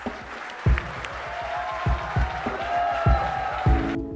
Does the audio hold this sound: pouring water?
no